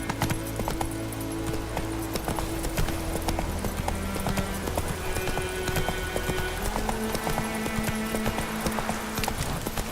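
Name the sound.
horse hooves clip-clopping while riding in The Witcher 3 video game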